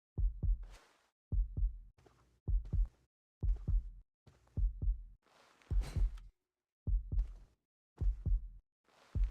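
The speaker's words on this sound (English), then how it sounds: "That's my actual heart beating right now." A human heartbeat picked up close by a microphone, a steady series of deep thumping double beats repeating about once per second, loud and isolated with silence between pulses.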